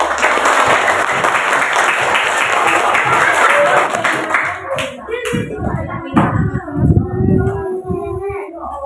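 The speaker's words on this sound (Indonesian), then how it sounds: "Tepuk tangan dulu kita." A classroom of students claps together in loud, dense applause that breaks apart into scattered individual claps while a few children chatter.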